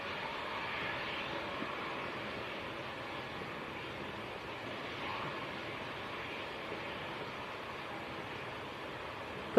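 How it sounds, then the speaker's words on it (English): Jet aircraft taxiing along taxiway Delta at Leeds Bradford Airport in crosswind conditions, a steady broad engine roar holding at moderate level throughout without talk. "Does mean we get a very, very nice close-up view as they taxi up towards us on taxiway Delta."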